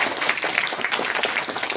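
Audience at a company presentation meeting clapping for themselves, a brief burst of dense, even applause held throughout at moderate volume.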